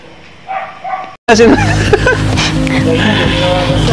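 A purebred puppy gives a few short yips and barks up close, mixed in with people talking loudly nearby.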